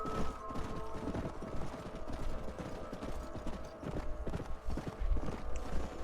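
Horses clip-clop along in Red Dead Redemption, a steady hoofbeat rhythm over a continuous low rumble and faint mechanical ticking, with brief talk.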